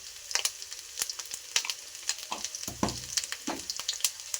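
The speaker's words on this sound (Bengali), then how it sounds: "এটাকে আমি সুন্দরভাবে কষে নেব" Chicken singara filling with salt and turmeric sautéing in a pan, a steady close sizzle with soft scraping and stirring knocks throughout, no talking.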